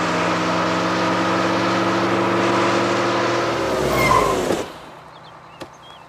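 A car engine roars loudly at speed for about four seconds in a chase to overtake a bus, its steady drone ending abruptly and leaving near quiet with one faint knock.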